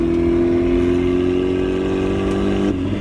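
A turbocharged Mazda Miata engine holds a steady, loud rev with a droning tone, then abruptly cuts and stutters as it breaks up near the end.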